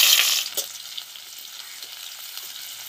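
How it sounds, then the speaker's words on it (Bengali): Chopped onions and dried chili hit hot white oil in a wok with a loud initial hiss, then settle into a quieter, steady sizzle with faint stirring clicks. "কড়ার মধ্যে আগে থেকে সাদা তেল দিয়ে দিয়েছি। শুকনো লঙ্কাটা দিয়ে দেব, কুচানো পেঁয়াজগুলো দিয়ে দেব"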